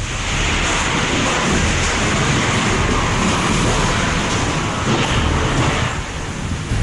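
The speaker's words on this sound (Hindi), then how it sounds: "जहां आज दोपहर सुपर तूफान निसर्ग टकराया" Cyclone Nisarga's storm winds battering Ratnagiri, Maharashtra: a loud, continuous broadband roar of gusting wind that never lets up across the whole stretch, with no voices.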